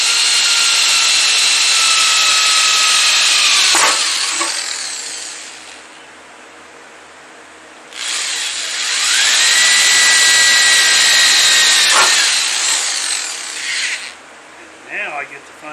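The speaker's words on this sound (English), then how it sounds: "Sometimes I just like the power of a corded drill." A corded electric drill bores holes in the bottom of a Grasshopper mower seat in two loud, whining bursts of about four seconds each, winding down between them, with a short rasp near the end.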